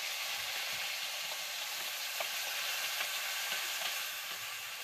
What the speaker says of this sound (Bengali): তো এবার আমি দিয়ে দিচ্ছি কেটে রাখা আনারসগুলো।